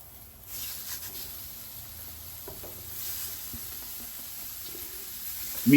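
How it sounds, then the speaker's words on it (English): Sausage patties sizzle over medium-high heat in a dry cast iron skillet, a quiet, even hiss with a few soft crackles and light scraping, close and steady, without any speech. "we're gonna take our sausage patties and put them down in a dry cast iron skillet"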